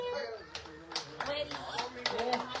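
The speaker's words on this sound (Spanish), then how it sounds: "Un aplauso para los músicos, muchachos." Live audience applause for musicians at an outdoor village gathering, a burst of hand clapping with scattered cheers and a few voices mixed in, fairly close and steady throughout.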